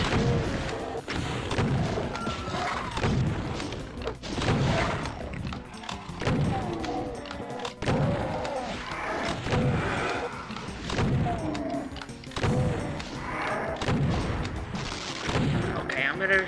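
Gunfire and heavy thuds and booms from the shooter game Doom: Legacy of Rust, dense repeated blasts and impacts running continuously at loud level, with a voice talking over parts of the action.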